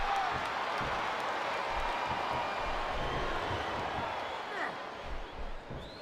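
Continuous arena crowd noise and cheering in the WWE 2K24 wrestling video game, a broad steady roar with faint voices over it toward the end.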